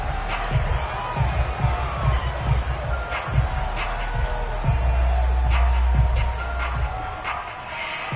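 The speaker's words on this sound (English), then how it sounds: "Plenty of shouts from this crowd as they watch the replay." A stadium football crowd shouts and murmurs while watching a replay, a loose rumble of voices with scattered whoops rising and falling, under a commentator's talk.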